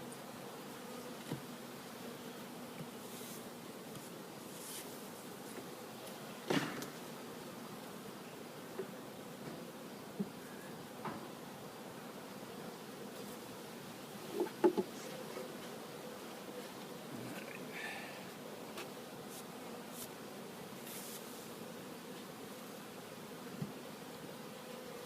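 A steady, low hum of many agitated, queenless honeybees buzzing close by at a hive during a trap-out, with occasional faint taps and rustles scattered through the drone.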